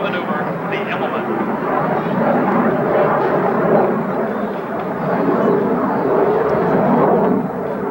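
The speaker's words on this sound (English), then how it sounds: "To further demonstrate just how powerful and maneuverable the Fighting Falcon is, Captain Kesterson will perform a double Immelman" An F-16 Fighting Falcon jet flies an Immelman at the 1992 Westover Airshow, a loud, sustained, rumbling roar that holds steady for several seconds while a voice talks over it.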